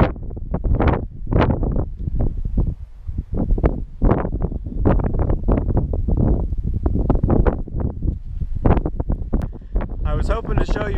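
Strong wind of about 30 miles per hour buffets the microphone at a campsite in loud, gusty roars. A person talks over the rushing wind.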